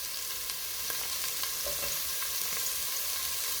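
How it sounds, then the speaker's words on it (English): Onions and garlic frying in a pan for a vegetarian pea and potato stew, a steady close sizzle with faint crackles running throughout and no talk. "then the garlic, and these can fry until a nice brown color"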